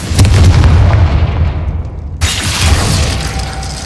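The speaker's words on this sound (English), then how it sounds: "Glacius!" Glacius ice spell cast in the video game Hogwarts Legacy: a loud, close, booming burst that decays, then a second sharp, crackling hit with a shattering edge, both heavy and low.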